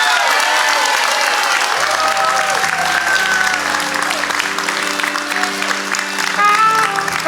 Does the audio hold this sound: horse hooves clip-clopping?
no